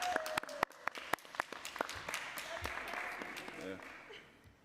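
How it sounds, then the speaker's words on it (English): A small audience at a New York City council hearing claps for a departing Department of Health official, scattered sharp claps building into brief applause, with talk in the room. "You all wish you could get that kind of clap."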